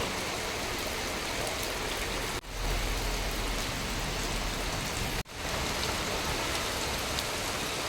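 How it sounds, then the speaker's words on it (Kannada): Steady rain falls in a continuous soft hiss, an even wash of drops with two brief dropouts in the middle. "ತುಂಬ ದಿವಸದಿಂದ ಮೋಡ ಆಗಿ ಇವತ್ತು ಸ್ವಲ್ಪ ಮಳೆ ಬರ್ತಾ ಇದೆ"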